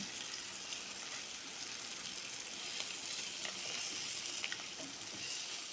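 Hard-boiled eggs roast in a pan for egg biryani, giving off a steady, soft sizzle and fry crackle with occasional light stirring scrapes, even and low in level throughout.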